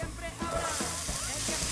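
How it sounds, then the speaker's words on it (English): Garlic sizzling in a hot pan while a meal is cooked, a steady soft frying hiss with a few faint stirring clicks throughout. "Let this garlic cook for about 30 seconds."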